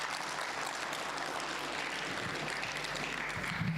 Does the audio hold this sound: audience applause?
yes